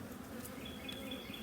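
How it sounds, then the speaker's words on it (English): Honeybees buzz steadily around a heavy honeycomb bar being lifted from a hive at harvest, a dense close-up drone with a few brief higher whines drifting past. "I'm going to try to brush these bees off of here"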